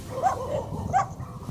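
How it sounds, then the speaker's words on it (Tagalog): Dogs bark and yip at newcomers in a rural village in Cavinti, Laguna, with a few short, close barks and whining notes over a noisy outdoor background. "So sinasalubong tayo ng mga aso dito."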